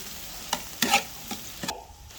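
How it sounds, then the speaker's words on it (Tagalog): Tomatoes stirred in a sizzling pan for Ilocano-style bopis of pork lung, with several distinct scraping strokes of a utensil over a low frying hiss, close and fairly quiet. "nilagay na natin yung kamatis. Ayan, halu-haluin natin"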